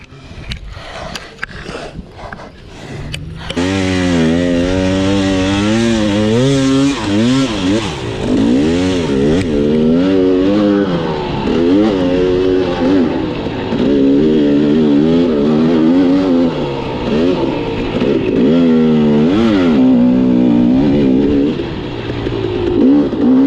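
A hard enduro motorcycle stuck in sand during the Grinding Stone 2023 race revs loudly and steadily, its engine rising and falling through repeated throttle bursts, up close and continuous after a brief quieter start.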